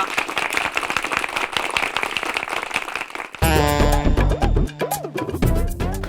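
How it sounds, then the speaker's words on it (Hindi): Loud, dense applause from an audience fills the first half, then breaks off into bright stage music with a few scattered claps carrying on. "ताल, तालियां"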